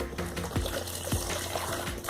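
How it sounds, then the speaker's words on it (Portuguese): Water pours and splashes into a container of plaster mix, a steady liquid trickle with a couple of soft knocks, close by and without talk. "Agora eu vou pôr mais água."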